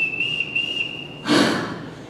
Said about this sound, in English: He never used to whistle for us when his wife was alive.